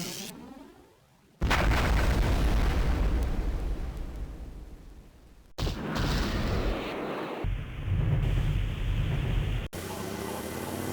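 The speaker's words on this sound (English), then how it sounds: "Another explosion as the infamous Goblin glider crashes." A loud explosion bursts as the Goblin glider crashes in a Spider-Man interactive CD-ROM comic game, a sudden booming blast that rumbles and decays, followed by further crashing bursts.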